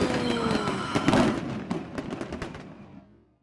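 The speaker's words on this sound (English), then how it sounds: "you hear a thud, and then you hear an explosion" A game-narration sound effect of a dull thud giving way to a loud, crackling explosion with a long rumbling tail that fades out over a few seconds.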